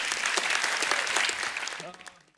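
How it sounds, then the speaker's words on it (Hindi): A studio audience at a Hindi comedy talk show bursts into loud, dense applause that holds steady, then fades out toward the end. "फरहान और प्रियंका के लिए जोरदार तालियां।"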